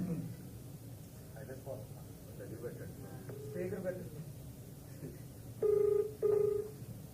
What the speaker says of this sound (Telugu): రింగ్ అవుతుంది.